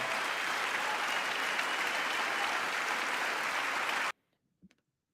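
Audience applauding President Biden at the State of the Union: dense, sustained clapping that fills the hall, then cuts off abruptly into near silence with a couple of faint knocks.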